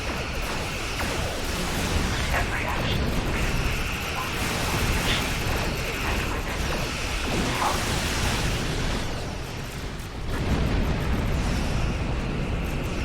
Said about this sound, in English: All sorts of explosions then